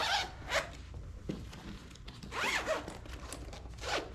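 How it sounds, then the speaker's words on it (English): Zippers on a tactical 6×8 pool cue case are pulled shut in several quick separate runs, close and fairly quiet, with no talking. "let me close all these zippers"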